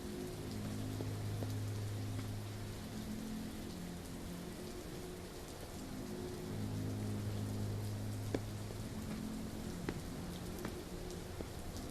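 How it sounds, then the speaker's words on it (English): Rain falls steadily in The Walking Dead VR game, a constant soft hiss of drops with a few sharper patters on surfaces and a low tonal hum beneath. "Why is it raining?"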